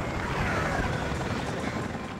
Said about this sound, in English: I think only the top helicopter shoots me.